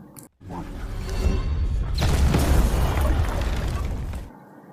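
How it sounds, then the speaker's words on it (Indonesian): A loud, rumbling bomb explosion in a film scene swells into a sustained roar with crackling debris, then cuts off abruptly into quiet. "Agent Niven pun buru-buru keluar yang disertai ledakan bom"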